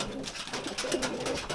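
A racing pigeon coos at its loft after returning home, a steady series of soft, close, throaty calls running through the short stretch with no talk.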